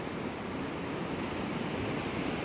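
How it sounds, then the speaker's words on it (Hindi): A steady, full rush of river water flowing, constant and fairly loud, with no pauses or voices. "तो दरिया के खड़का सुनाई दे रहा ना थोनू पानी का"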